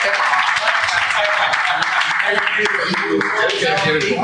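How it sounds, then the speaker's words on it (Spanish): A conference audience breaks into sustained applause for a genetics speaker, steady and fairly loud throughout, with some voices mixed in beneath the clapping. "Un fuerte aplauso para acompañarme"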